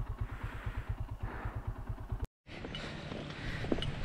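A motorcycle engine chugs at a close, steady idle with a fast, even thump as the rider pulls in to park, cuts out briefly, then gives way to a louder rushing roadside wash.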